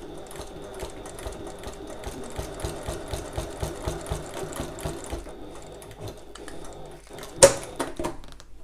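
Sewing machine running steady bursts of stitching to secure a strap on a budget messenger bag, a close, even mechanical chatter with a brief pause and a sharp click near the end.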